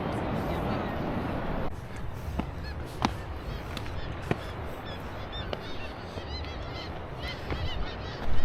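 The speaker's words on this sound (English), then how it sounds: "the place is also home to a big bird population" A large flock of birds honks and calls in Iceland, repeated sharp calls popping out over a steady wind-like roar, some near and some farther off.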